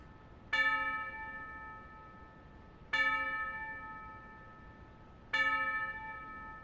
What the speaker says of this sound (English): the inexplicable bell tone going off in here that seems to not have realized the song was over